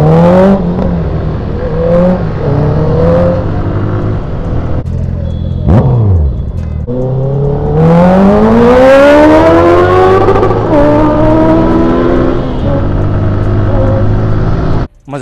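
A Honda CBR650 motorcycle with an Akrapovic full-system exhaust revs hard with a loud, raspy exhaust, rising and falling in pitch through repeated throttle blips, with a voice talking over parts of it.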